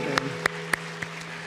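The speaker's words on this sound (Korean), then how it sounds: "우리 하나님께 영광의 박수 드리겠습니다." A few scattered claps from a church congregation during a Sunday afternoon worship service, four or five distinct strikes spaced roughly a quarter second apart, moderately loud in a reverberant room with a steady low hum underneath.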